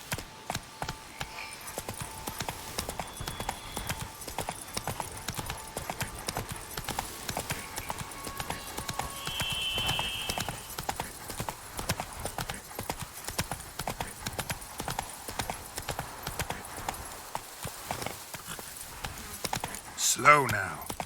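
Horse hooves clip-clop steadily at a walking pace in The Witcher 3: Blood and Wine, fairly quiet, with speech and occasional other game sounds over them.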